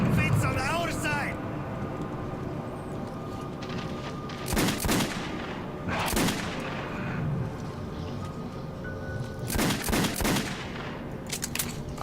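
Assault rifle fire in the first-person shooter Metro 2033, with several loud bursts of shots against constant game background noise and a voice talking over parts of it.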